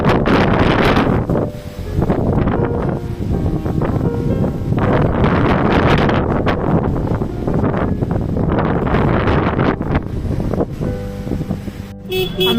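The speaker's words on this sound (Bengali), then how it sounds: "বিশাল জোরে ঝড় হচ্ছে" Strong storm wind buffets the microphone in heavy, roaring gusts over a wave-tossed river where a boat sits stalled midstream, with rustling and a faint toot under the constant blustery noise.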